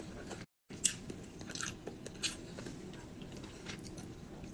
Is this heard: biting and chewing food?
yes